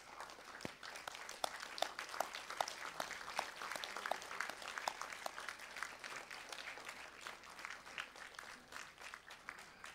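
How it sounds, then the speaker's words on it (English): Graduates at a university graduation ceremony at Asia Pacific University applauding, a faint, distant, steady roll of many hands clapping sustained throughout the hall. "With a thunderous applause."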